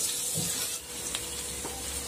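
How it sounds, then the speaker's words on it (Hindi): Potatoes and onions fry together in a pan for a spinach curry, giving a steady close hiss of sizzling oil with a few soft stirring scrapes and no talking. "आलू को हमें 2 मिनट तक इसे भूनना है।"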